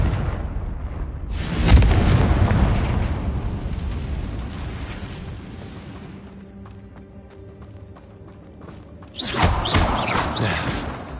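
A Confringo blasting curse goes off in the Hogwarts Legacy video game, with a heavy booming blast followed by a long rumbling decay, then a second sharp explosive burst near the end.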